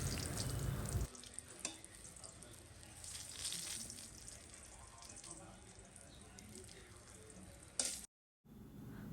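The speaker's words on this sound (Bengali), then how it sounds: "এখন বেগুন ভাজা হচ্ছে" Eggplant (brinjal) slices fry in a pan at home, giving a steady, close hiss and crackle of sizzling oil that runs throughout. The sizzle cuts out abruptly for a moment near the end, then picks up again.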